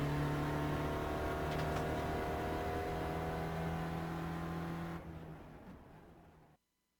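A race car engine in a sim racing game drones at steady high revs at Mount Panorama, Bathurst, holding a loud sustained tone before cutting away abruptly near the end.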